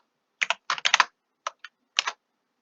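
Typing on a computer keyboard during programming: close, crisp clusters of key clicks in short irregular bursts, separated by brief pauses, with no talk.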